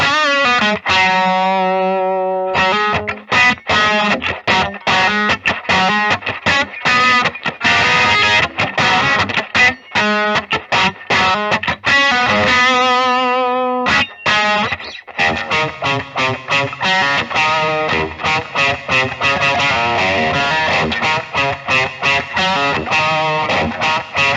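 A distorted 2021 Gibson Chuck Berry 1978 ES-355 electric guitar on its thinnest tone setting plays choppy chords and riffs with a thin, nasal tone, loud and continuous, with a brief pause partway through.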